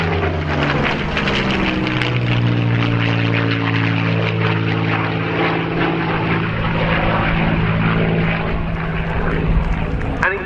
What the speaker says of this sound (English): the Spitfire